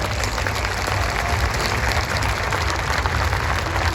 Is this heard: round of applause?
yes